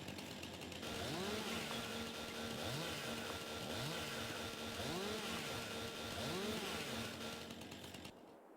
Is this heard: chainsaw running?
yes